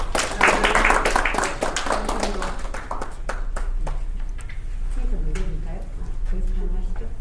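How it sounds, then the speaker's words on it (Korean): An audience at a Korean citizens' education forum claps to welcome a speaker, brisk, fairly close individual claps tapering off, with voices talking over the applause later on. "박수로 모시겠습니다."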